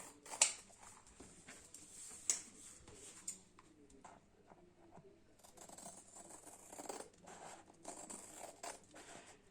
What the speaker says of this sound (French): je vais couper les bords